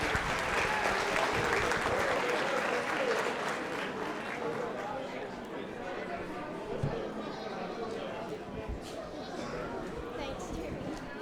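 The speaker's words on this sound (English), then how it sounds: "Let's give all these kids a big round of applause on their way out." An audience at a county junior livestock show and sale applauds the young exhibitors, sustained clapping filling an arena while an announcer talks over it.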